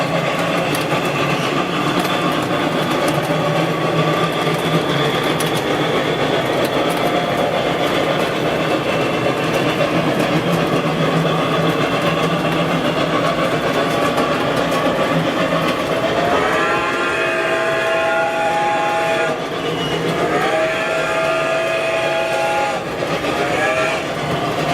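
A model train runs steadily along its track with a continuous mechanical rumble and whir, loud and close, and a horn sounds in two tonal blasts near the end.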